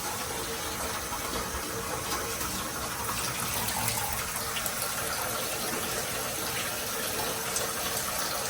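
Water rushes steadily through an opened valve on a pipe in a barn being converted into a fish sanctuary, a broad, constant gushing hiss that stays loud and even throughout without any talking.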